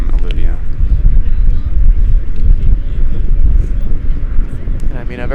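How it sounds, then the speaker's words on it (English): Strong gusting wind buffets the microphone at an outdoor women's beach volleyball semifinal in Salt Lake, a steady low rumble under a commentator's voice that carries on throughout. "this wind is really picking up"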